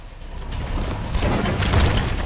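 An explosion in the video game Titanfall, a broad low rumbling boom that swells and lingers for a couple of seconds without voices.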